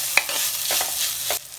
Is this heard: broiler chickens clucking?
no